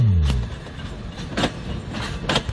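A train rumbles low at first, then gives a few sharp, clattering bursts spaced across a steady background of rail noise.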